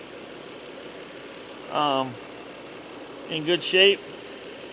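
A 2006 Lexus 3.3L VVT V6, freshly fitted with a new timing belt, idles with a low, steady hum beneath two brief bursts of nearby talk.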